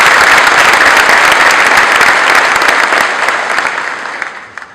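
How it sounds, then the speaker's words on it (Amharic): A large audience breaks into loud, sustained applause at an Ethiopian public talk, dense clapping that fills the room and then gradually thins and fades toward the end. "አጨብጭቡልኝ"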